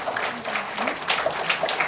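A crowd at a Madurai Humours Club comedy stage event claps for the elders, giving steady applause under a speaking voice.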